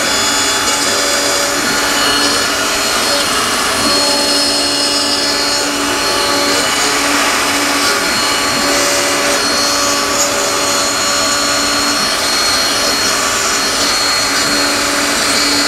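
A machine tool taking a light finishing spring cut gives off a loud, steady broadband whir that holds even and unbroken throughout, with no talk.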